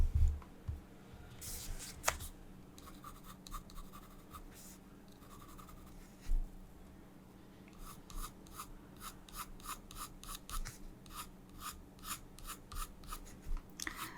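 Graphite 2B pencil scratching across sketchbook paper while drawing a lion's mane, a close, steady run of short rasping strokes with brief pauses, alone with no talk.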